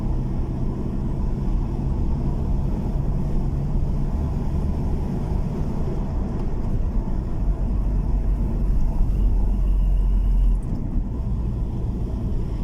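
A car descends a steep, bumpy hill in 3rd gear, its engine giving a steady, loud low rumble throughout with a slight surge near the end.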